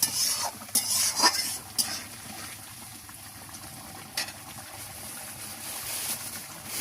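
A spatula scrapes and stirs spice paste in a pan for tel koi fish curry, with irregular close scrapes over a soft, quiet sizzle and no talking.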